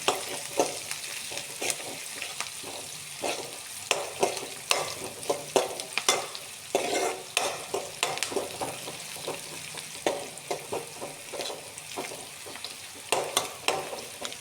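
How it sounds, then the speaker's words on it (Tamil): Chopped onions fry and sizzle in a pan as they are stirred with salt and turmeric powder, giving a steady hiss broken by many sharp scraping strokes from the spoon, close and clear with no talk. "சால்ட்டு மஞ்சள் தூள் போட்டு ஒரு லைட்டாக கிளறி விட்டுறலாம்"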